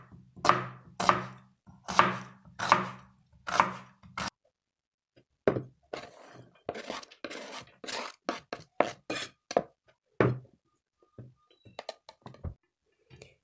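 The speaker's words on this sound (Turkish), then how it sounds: "İlk olarak soğanlarımı doğramakla işe başlıyorum." A knife chops onions rapidly on a cutting board, first in a slow rhythm of heavy thunks, then faster, lighter taps in quick succession.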